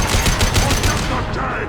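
Incendiary gunfire in the sci-fi shooter Mass Effect 2 crackles in rapid bursts, loud and close, several shots in quick succession before fading into a hiss.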